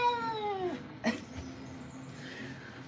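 A ragdoll cat meows several times during a grooming session, a drawn-out falling cry up front followed by a short sharp sound and then quieter vocal murmurs, close and clear.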